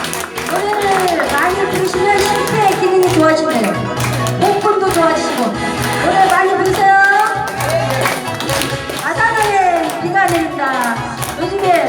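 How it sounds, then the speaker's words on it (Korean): An audience at a senior café concert in Korea applauds to welcome a singer, steady loud clapping throughout with voices and chatter mixed in. "박수로 환영해 주십시오"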